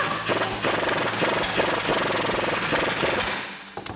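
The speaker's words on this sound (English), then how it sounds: "Next, we can grab our 21 millimeter socket to tighten our bolts down." A 21 millimeter socket driving suspension bolts on a 2019-2023 RAM 1500 during a lift kit install, heard as a close, loud, rapid rattling hammer in regular bursts throughout.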